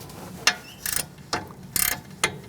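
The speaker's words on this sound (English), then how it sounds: "I'm going to switch to a ratchet wrench once I free up these bolts." Ratchet wrench clicking in short bursts while loosening the brake caliper bolts on a 2008-2014 Mercedes-Benz C300 during rear wheel bearing work, several quick close ratcheting runs separated by brief pauses.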